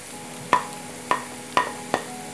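Chopped capsicum and tomato are fried in a pan: four soft, evenly spaced scraping stirs of a spatula over a steady low sizzle, heard close up with no talking.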